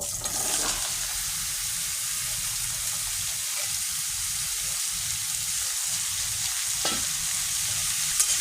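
Sliced bottle gourd and potato hit a hot frying pan, setting off a loud, continuous sizzle that holds steady from start to finish, with a few faint stirring clicks and no talking.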